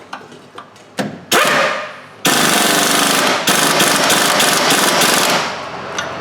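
Impact wrench tightening on a Ford Ranger build, several loud close bursts of rapid hammering, the longer ones running a second or more, separated by short pauses.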